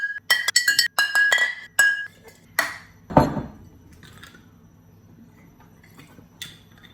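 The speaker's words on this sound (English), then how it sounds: "I need to record some glass." Glass being struck and clinked, a rapid series of bright close clinks and chinks followed by a lower thud and a few faint scattered taps, no talk.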